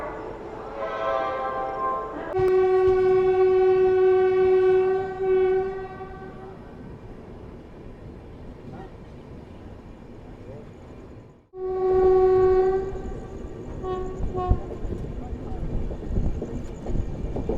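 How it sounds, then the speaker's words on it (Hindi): A passenger express train, the Sampark Kranti Express, crosses another train in Madhya Pradesh after leaving Damoh. Its horn sounds loudly in long blasts while the wheels rumble steadily, and a second loud horn comes after a brief drop-out. "ट्रेन के साथ क्रॉसिंग भी हो रही है कोई"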